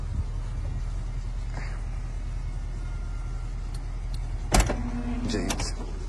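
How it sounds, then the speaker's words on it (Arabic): Power tailgate of a 2012 Mercedes GL 500 closing, a faint motor hum followed by a brief latching clunk and a few short clicks near the end, over a low steady background rumble. "نغلق الصندوق"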